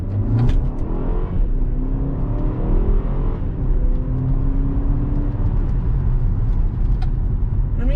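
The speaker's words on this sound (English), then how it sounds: "Put it in the drive and we're off." A 2021 BMW X1 shifts into drive and pulls away, its engine note rising steadily as it accelerates, with continuous road and cabin noise throughout.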